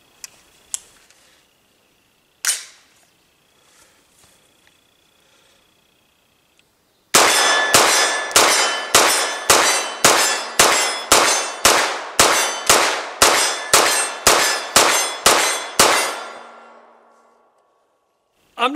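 A CMMG Banshee firing at a steel target: a few isolated shots and clangs, then a rapid, evenly spaced string of about fifteen loud shots with ringing metallic hits, ending abruptly.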